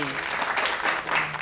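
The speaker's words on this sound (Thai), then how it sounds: "ขอเสียงปรบมือกับน้องเค" An audience applauds with a dense burst of clapping during a stage performance event, steady throughout the brief moment, with a voice speaking underneath.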